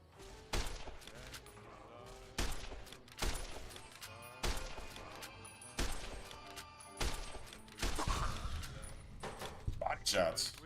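Gunshots in the video game Fallout: New Vegas, a string of sharp, loud reports fired at irregular intervals, each with a short ringing tail, with a voice talking in between.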